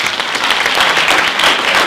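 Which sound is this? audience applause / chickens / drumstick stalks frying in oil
audience applause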